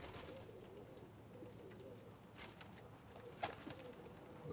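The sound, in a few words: pigeons cooing in holding pen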